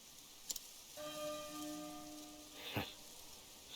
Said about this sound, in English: There's the bell again. It has a beautiful sound.